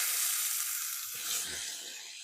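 Tomatoes sizzle in a hot pan over high heat, a loud bright hiss of frying with a couple of soft low pops midway, no voices.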